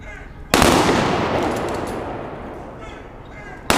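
At an outdoor police memorial service an honor guard fires a rifle volley: one loud, sharp crack that echoes and slowly fades, and a second report begins just as the clip ends.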